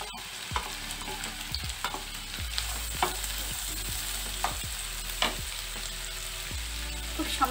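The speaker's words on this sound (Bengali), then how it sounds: "গাজর কুচি দিচ্ছি, বিনস কুচিটাও দিয়ে দিচ্ছি" Chopped carrot and beans with potato sizzling in a pan for sago pulao, with a steady fry broken by repeated sharp scrapes and clinks of a spatula stirring, close and alone without talk.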